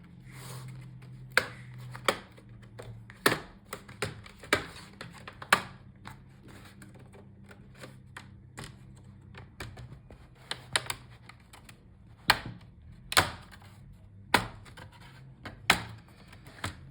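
Plastic pry tool working the bottom cover off an HP EliteBook 660 G11 laptop, producing a series of sharp clicks and snaps spaced irregularly, close and distinct over a quiet background.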